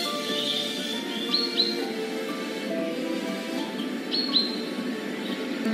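Small birds chirp and tweet in a children's story, bright quick calls that come in a few bursts over a steady wash of background sound.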